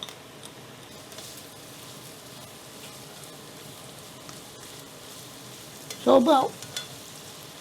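Chopped mushrooms frying in a pan, a steady low sizzle close by throughout, broken near the end by a brief louder clatter or stir, with a single short spoken word.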